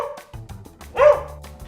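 A dog barks once at close range, a single sharp yap with a short tail, set against low rumbling background noise.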